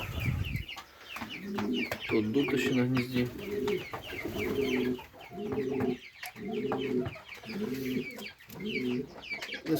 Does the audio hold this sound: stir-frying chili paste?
no